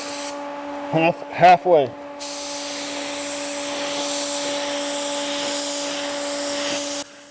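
Spray gun laying a medium-wet first coat of clear coat on a car at about 30 psi, a steady broad hiss running for roughly five seconds after a brief spoken word.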